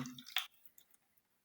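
Freshly squeezed lemon juice is added to steamed chicken dabu with a brief, soft drip and squish, faint and close, then fading to quiet.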